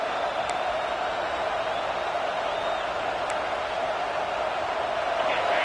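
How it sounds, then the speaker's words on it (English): Steady roar of a college football stadium crowd at Oregon vs TTU, rising behind the defense on third down; a dense, unbroken wash of noise with no distinct voices. "Decibels rising as the crowd gets behind this defense on 3rd down."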